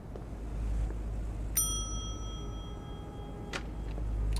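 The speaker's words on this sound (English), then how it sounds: "Let's ring the bell." A front desk bell in The Wolf Among Us is struck twice, each time giving a bright metallic ding that rings on and decays slowly over faint room hum.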